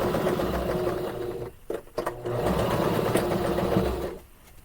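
A sewing machine stitches a seam on a small gift bag, a rapid steady mechanical whir with a brief pause and restart partway through, close and alone.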